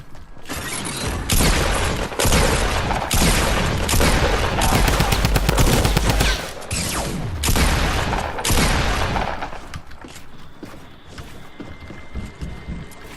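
Double pump shotgun fire in Fortnite, a rapid series of loud sharp blasts with mechanical pump and reload clatter between them, dense for several seconds and then thinning into quieter game sounds.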